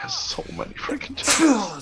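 Someone talks briefly and then lets out one loud, close sneeze, heard over a co-op strategy game session.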